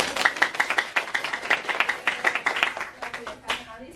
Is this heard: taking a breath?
no